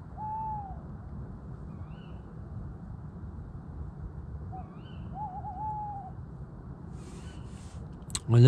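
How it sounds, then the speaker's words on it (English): A tawny owl hoots at night at a wild camp in Wiltshire as Storm Ciaran's wind builds: one wavering call early, then a longer quavering hoot midway, both moderately distant over a steady rush of wind. "I love the good old tawny owl."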